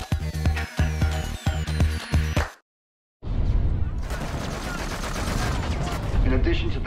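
Rapid bursts of gunfire in quick rhythmic volleys, then a sudden silence, followed by a dense, rumbling barrage of continuous shooting and explosions.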